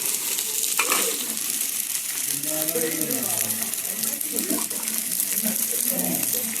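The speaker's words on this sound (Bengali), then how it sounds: "এখন আমি একটু জল দিয়ে দেবো" Water poured into sizzling masala for a country chicken curry, a loud continuous hiss and bubbling fry with stirring, while a person talks over it.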